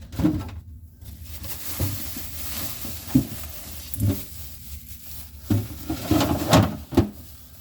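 A home kitchen refrigerator is opened to fetch onions: a handful of soft, close clunks and knocks from the door and its contents, spaced irregularly against a quiet room background.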